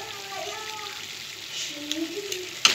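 Meat for biryani frying in a pan just after Kashmiri chilli powder goes in, giving a steady close sizzle with a few sharp taps near the end, and a voice talks over it.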